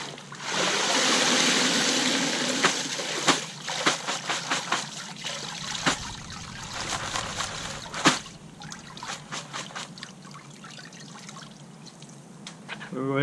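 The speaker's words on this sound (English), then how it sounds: "So we're gonna go ahead and drain them again." Water drains from a tub of crawfish in a steady trickle, broken by scattered splashes and clicks from the shellfish, close and moderately loud.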